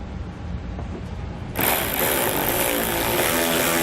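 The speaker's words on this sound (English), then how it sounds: "We're going to be using an 8mm socket to pull it out." Power tool or impact driver with an 8mm socket backing a bolt out of the wheel well of a 2014 Dodge Durango, a steady near mechanical whir starting abruptly partway through after quieter background and continuing loudly to the end.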